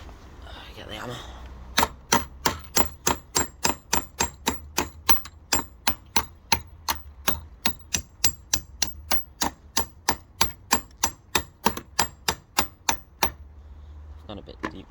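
Steady, evenly spaced hammer blows ring out sharply, about two per second, for several seconds while roofing an outbuilding, after brief quiet talking.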